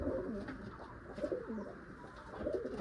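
A male Malawi breed pigeon coos softly and repeatedly at close range, low rolling coos in an even rhythm with faint background noise and no talk.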